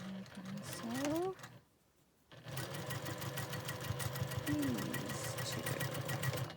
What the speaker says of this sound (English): I'm going to sew those two.